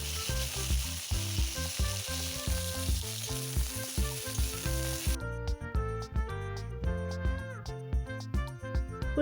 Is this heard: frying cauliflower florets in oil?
yes